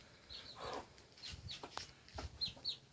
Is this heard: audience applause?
no